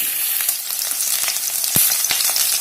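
Jackfruit and potato pieces fry in hot oil in a pan with a steady, loud sizzle, broken by scraping stirs and a sharp clatter near the middle; no one talks.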